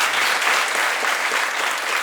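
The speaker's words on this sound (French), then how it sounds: "Applaudissez maintenant." Improv theatre audience at a Paris festival applauding to vote points for a scene, a dense, steady wash of clapping from many hands lasting the whole moment, loud and close without a break.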